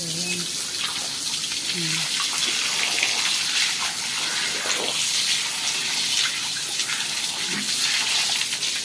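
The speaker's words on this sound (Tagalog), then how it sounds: "Ayan po, magdidilig po tayo." Water runs steadily from a hose or tap while plants are being watered, a loud continuous gushing hiss, with brief voices faintly underneath.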